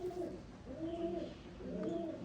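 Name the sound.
pigeons cooing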